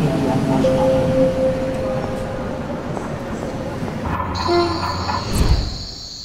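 Fast passenger train rumbling along the rails with steady broadband clatter, a brief horn-like tone partway through and a squeal of wheels near the end, fairly loud and close throughout.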